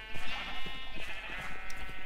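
Sheep bleat repeatedly in the video game Minecraft, a string of wavering, nasal calls close by at moderate volume.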